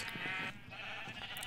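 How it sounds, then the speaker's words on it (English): A Minecraft sheep bleats briefly on a colourful sheep farm, a short nasal call standing out clearly over quiet game ambience. "Now this is the sheep farm of all kinds of colors."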